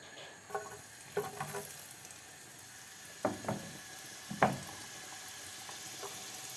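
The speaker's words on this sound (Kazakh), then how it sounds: "Пиязын салып қуырып аламын." Chopped onion frying in a small amount of oil for a noodle soup, a steady close sizzle with a few louder stirring scrapes and spatters, no voices.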